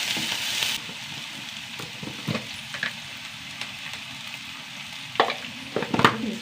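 Onions frying in a pan, a continuous soft sizzle with scattered stirring scrapes and clatters that grow busier and louder toward the end, no voices.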